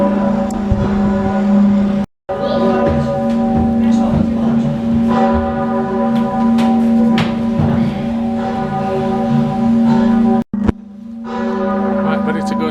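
Bells ring at the top of the Wawel Cathedral bell tower, loud and close, strong sustained tones overlapping with a long resonant hum, briefly cut twice, with some faint voices and shuffling around them.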